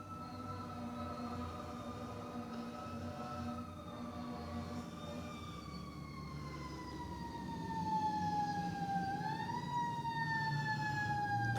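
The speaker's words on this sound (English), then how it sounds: "There are so many sirens." Several sirens wail together from a distance, their tones slowly sliding downward over a steady low rumble, with no talk.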